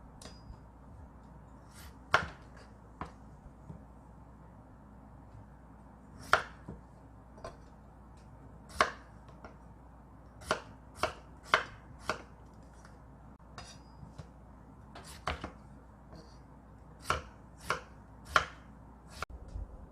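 A knife chops a potato on a cutting board in a home kitchen, sharp isolated knocks arriving irregularly, sometimes in quick pairs, against a quiet background.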